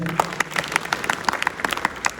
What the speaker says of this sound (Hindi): उनके लिए एक बार विशेष ताली बजाएं।